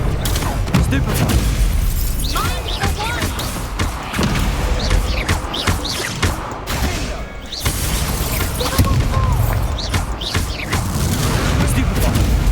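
Stupefy spell cast in a duel in the Hogwarts Legacy video game: loud, dense combat of magical blasts, booms and heavy thuds, with repeated impacts layered over a continuous roar and no clear gaps.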